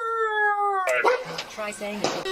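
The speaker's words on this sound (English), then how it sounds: "Okay, so that noise you heard was the dog crying." A dog locked in a car lets out a long, steady whining cry, followed by a person speaking briefly over a few softer yips and whimpers.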